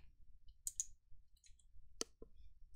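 A computer mouse clicks on an OK button in Excel 365, giving a few faint, sharp clicks spaced apart against a quiet background, with no speech.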